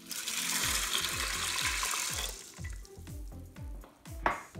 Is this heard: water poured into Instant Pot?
yes